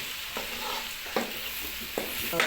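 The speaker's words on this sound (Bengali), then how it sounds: "মিক্স করে নেড়ে নিতে হবে" Spices with turmeric powder for a soybean curry are stirred in a hot pan, several scraping strokes about a second apart over a soft sizzle.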